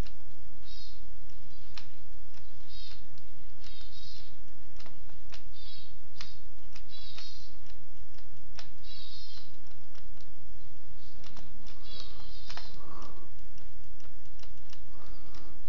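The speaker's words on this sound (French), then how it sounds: "des petits clics de souris, des petits mouvements circulaires, on arrive à détailler un relief." Computer mouse clicks while sculpting and smoothing terrain in editing software, a steady run of small, close, dry clicks in irregular clusters over a quiet background.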